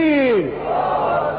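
A crowd at a religious sermon answers the preacher's call with a loud, brief collective shout of the Takbeer slogan, a single massed chant that swells and then fades.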